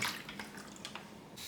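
Water runs into the small removable mop compartment of an Ecovacs robot vacuum, a soft steady trickle with light splashy drips, faint and close, with no voices.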